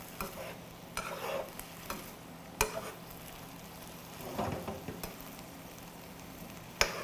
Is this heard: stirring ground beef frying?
yes